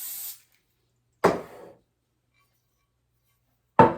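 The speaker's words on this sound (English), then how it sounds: "So we're going to spray our pan." Two short hissing bursts of aerosol cooking spray onto a baking pan, a second or two apart, close and distinct against near silence.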